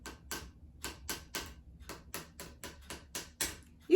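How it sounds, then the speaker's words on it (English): A pencil taps on a hard surface in a quiet room, about a dozen crisp, close ticks at an even, clock-like pace, alone with no talking. "You can hear my tapping pencil."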